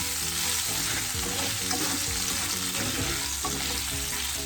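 Pork fat rendering in a pan, a steady loud crackle and sizzle of frying oil that stays even throughout with no voices.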